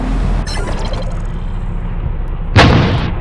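A tank cannon booms from the War Machines: Tank Clash video game, with an opening blast and rumble followed by a sharper, louder explosion near the end, all without speech.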